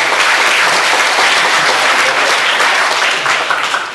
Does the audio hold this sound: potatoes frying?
no